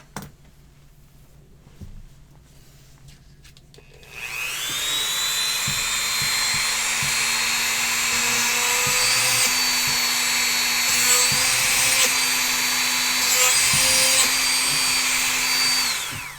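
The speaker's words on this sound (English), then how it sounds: "I don't like the drill bit to get heated up too much" A quiet room, then a high-pitched rotary drill whines up and grinds steadily into stone for a pendant, loud and close, with small pitch shifts as pressure changes.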